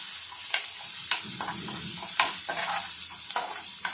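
Ground chili, ginger and garlic paste sizzles in a hot pan, a soft steady frying hiss broken by repeated light scrapes and clicks of stirring, with no talking.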